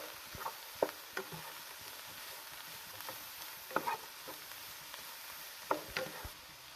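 Chopped cabbage stirred in a pan, a soft steady rustle with a faint sizzle, broken every second or so by sharp scrapes and taps of the spatula, fairly quiet and with no talk.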